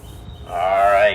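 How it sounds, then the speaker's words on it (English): Eagles at a zoo give one harsh, drawn-out call from the background that rises and then tails off, over low ambient murmur. "but that is actually the eagles talking."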